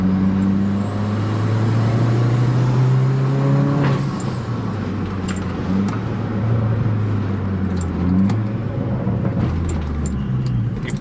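A turbocharged Astra with a 2.0 engine, rated 128 hp in stock form, revs loudly and continuously up close, its engine note rising and falling through the clip with no talking.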